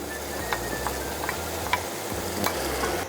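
Sliced carrots and spring onions cook in a pan, a steady soft sizzle and bubble holding throughout, with a few light clicks and scrapes scattered through it and no talking.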